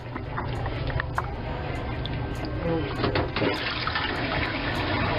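Water rushes and gurgles steadily down a kitchen sink drain, a continuous close-up flow with occasional clinks.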